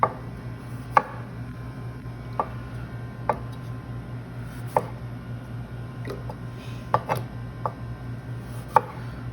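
A kitchen knife cuts through a vegetable on a cutting board, squaring it up with about a dozen crisp, separate chops at an uneven pace, close and clear over a low steady hum.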